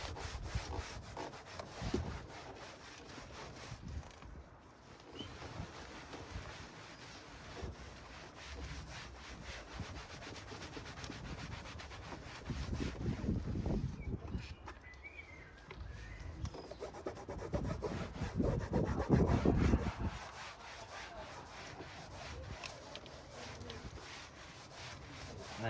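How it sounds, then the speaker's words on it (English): A cloth rubs and wipes suds off the plastic trim of a car that had sat unwashed for a year, giving soft, close, continuous scrubbing swishes that rise and fall without any talking. "just go back over with the cloth, just get rid of all the suds"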